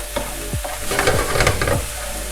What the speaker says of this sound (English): I'm sweating the onions now